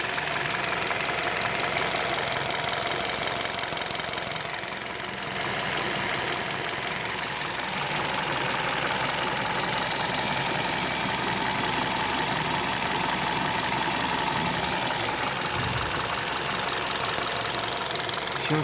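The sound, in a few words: KIA Rio engine knocking at idle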